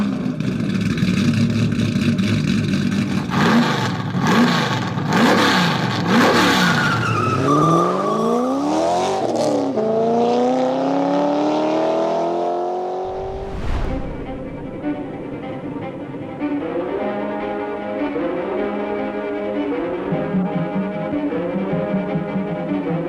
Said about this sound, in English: Behold, the infamous Chrysler Turbine Car.